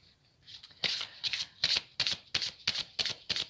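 Oracle cards are shuffled for a reading: a run of about eight quick, crisp riffles and slaps, close and evenly paced, with no one talking.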